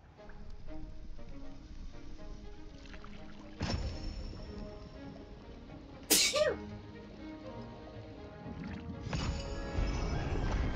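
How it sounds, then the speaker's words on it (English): Someone sneezes repeatedly, with three sharp, loud bursts spaced several seconds apart over a quiet background of soft game ambience and murmuring sounds. "This is the sneezing video."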